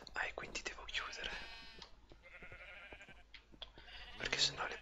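Sheep bleating in Minecraft, several short tonal bleats scattered through the clip alongside soft whispering and clicking.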